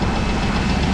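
A front-wheel-assist two-track tractor used to pull a grain cart idles nearby, a steady, loud low engine rumble with no other sounds.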